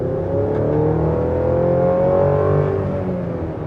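A Chevrolet Colorado Z71 4WD pickup's engine revs up under acceleration, a loud, continuous drone whose pitch climbs smoothly throughout, with no talking.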